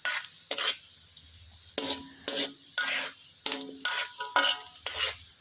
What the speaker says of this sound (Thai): คนไปเรื่อยๆ นะครับ ระวังไหม้ด้วยนะครับ การเจียวกระเทียมเผลอไม่ได้เลยนะครับ